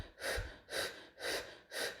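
A person imitates short, rapid hyperventilation breathing with four quick, evenly spaced breaths in a steady rhythm. The breaths are close and clear, with no other sound.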